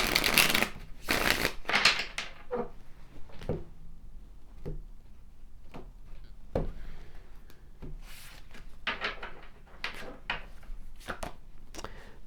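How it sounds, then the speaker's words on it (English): Tarot cards being shuffled in several quick riffling bursts, close and fairly loud at first, followed by softer scattered card taps and slides; no talking. "Let's get one more shuffle in here."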